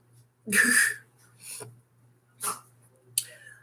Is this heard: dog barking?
yes